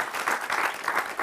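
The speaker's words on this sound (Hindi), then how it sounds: "बहुत एक जोरदार तालियां उन सब लोगों के लिए" Brief, steady audience applause during a talk honouring a 2016 Paralympic award winner: dense, even clapping from a crowd, heard on its own.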